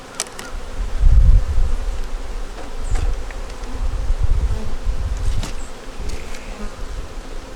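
Honeybees buzz steadily around beehives sheltered from the wind on a cold-weather day, a continuous close drone with a few louder passes near the listener and no talking.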